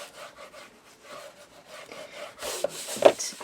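Paper being burnished down while constructing a double folio album, close rhythmic rubbing strokes that grow louder and scratchier toward the end, with no talk.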